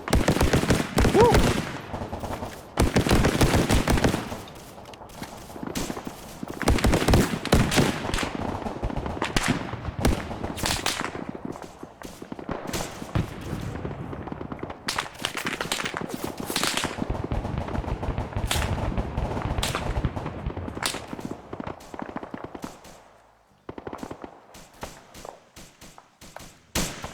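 Video game battle gunfire in an Argentina campaign: dense bursts of automatic fire and single shots, some heavy and explosive, come in waves that thin out toward the end.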